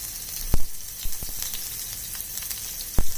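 Onion frying in olive oil in a pan for khichuri, a steady close sizzle punctuated by a few sharp clicks and utensil knocks, no speech.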